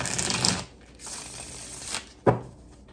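Quick riffling rustle of cards near the start, then a quieter pause and a second burst, ending in a sharp snap as the deck squares up.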